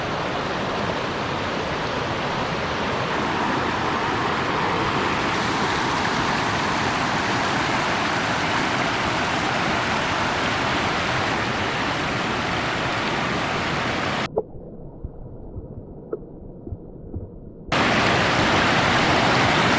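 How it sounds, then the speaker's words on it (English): Loud, steady rushing of swirling river water fills the whole stretch, a dense broadband roar that briefly drops away before surging back. "The swirling water collects debris like sediment and spins the pebbles around, which cuts into the stone."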